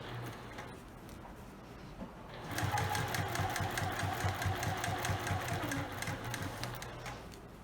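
A sewing machine stitching a fabric storage box starts after a quiet lull and runs in a fast, even mechanical chatter, close and steady, with no talking.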